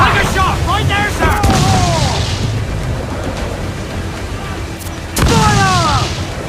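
Ship cannons fire in a naval battle in Assassin's Creed IV: Black Flag, heavy booms rolling under loud crew shouting and constant battle noise, with a sharp blast near the end.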